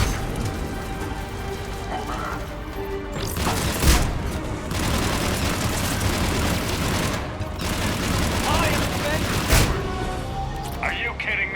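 Heavy gunfire in a Mass Effect 3 cutscene, dense overlapping bursts of shots with sharp cracks and booms around the 4- and 9.5-second marks, sustained and loud throughout under scattered voices.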